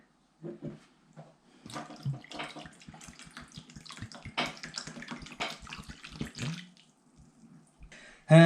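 Lemon juice is poured and splashed over rusty car parts in a container, giving a close, wet trickling and spattering with small drips. It is irregular, with a brief louder clunk at the end and no talking.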